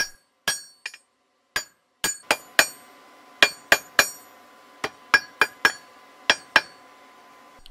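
A hammer strikes a steel fire poker being forged, about twenty sharp ringing blows at an uneven pace, some in quick clusters and others after short pauses, each blow clear and close.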